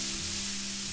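Mushrooms, onions and peppers sizzling on a flat top griddle for ribeye Philly cheesesteaks, a brief, even hiss of frying with a low hum beneath and no voice.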